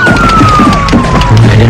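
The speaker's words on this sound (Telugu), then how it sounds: "వినిపిస్తుందా ఆ బ్యూటిఫుల్ సైరన్ సౌండ్?" A police siren wails loudly in a Telugu thriller film scene, one steady tone sliding slowly lower over a dense, rumbling background, with no voices.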